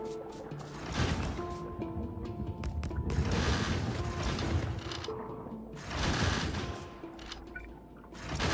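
Gun turrets fire in the game Factorio, with bursts of rapid automatic gunfire that swell and fade in several waves over a mechanical clatter, while steady tones hum in the background.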